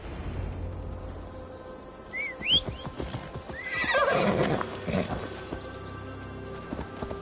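A horse in the video game Assassin's Creed Valhalla, set in a forest in Glowecestrescire, gives a couple of high whinnies with snorts and hoof clatter over a quiet game ambience.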